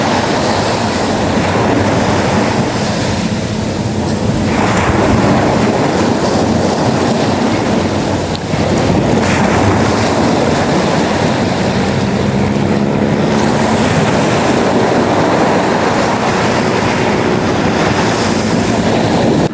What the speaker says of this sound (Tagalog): Sobrang lakas ng alon ng dagat